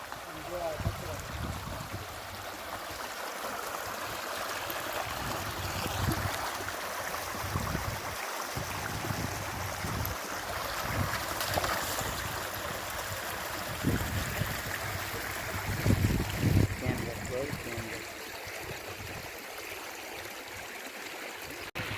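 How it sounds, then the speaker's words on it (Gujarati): The Hiran river flows through a dense forest, giving a steady, close rushing of water for the whole stretch, with a few brief louder splashes standing out near the middle. "આ જો હિરણ નદી"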